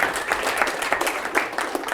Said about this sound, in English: give yourself a round of applause for being part of that.